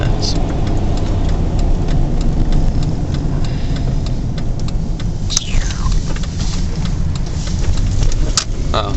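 Car engine droning low and steady inside the cabin while driving, with faint ticking on top and a voice talking over it.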